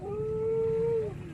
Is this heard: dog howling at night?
yes